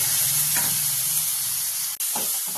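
Spices hiss and sizzle in hot oil after fried garlic, a loud, close, continuous frying sound with a brief drop and a few stirring scrapes.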